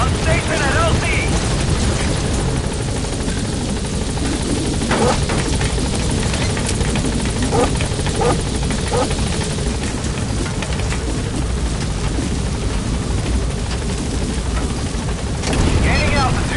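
Support helicopter arriving at a landing zone in Metal Gear Solid V, a loud continuous rotor drone and engine roar filling the whole stretch, with faint thumps and crackles mixed in.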